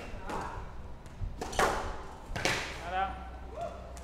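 Squash ball struck repeatedly during a professional quarterfinal match, giving sharp thuds and taps in an irregular rally rhythm, heard under a commentator's voice and crowd ambience.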